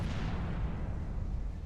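A door blown open by an explosion in the video game Lifeless Planet: a deep, heavy boom that decays into a fading rumble over a second or so, heard alone.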